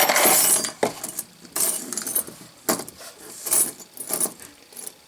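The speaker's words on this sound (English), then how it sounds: "Okay, a bunch of keys." A bunch of metal keys and key blanks jangles and clinks in several close, loud bursts of rattling, with short pauses between shakes.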